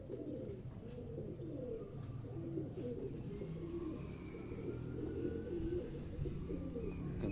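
A pigeon cooing close by, soft repeated low coos in a steady rhythm over a quiet background hum, with no talk.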